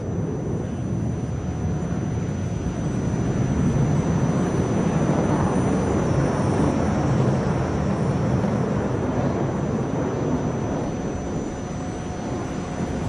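Sukhoi Su-30SM jet fighters of the Russian Knights display team flying at the Dubai Air Show, a steady broad roar of jet engines in the distance that holds constant throughout with no voices.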